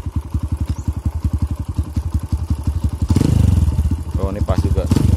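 Motorcycle engine idling with a steady rapid thumping pulse, then the throttle is turned and it revs louder and harder for a couple of seconds before easing back; a voice speaks briefly near the end.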